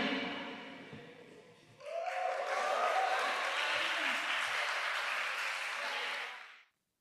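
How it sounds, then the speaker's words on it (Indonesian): Audience applause at a school iftar gathering and SNBP 2025 announcement, a crowd bursting into lively sustained clapping after a brief spoken moment, steady and fairly close, then cutting off abruptly. "Ya, tepuk tangan yang meriah."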